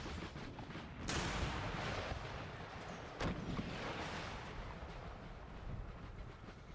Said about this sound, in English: So yeah, watching this cannon duel